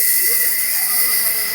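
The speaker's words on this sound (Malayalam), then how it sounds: "പൂള ഇട്ട് കഴിഞ്ഞ് തിളച്ച് വരുന്നുണ്ട്" A large pot holding 100 kg of tapioca in water hisses steadily as it boils, an even, continuous steam-like rush with no pauses.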